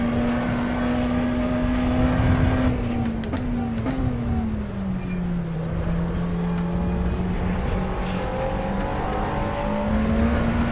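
Race car engine in the iRacing video game, a steady droning tone that rises and dips as the car drives on, with brief clicks of shifting partway through; no talking.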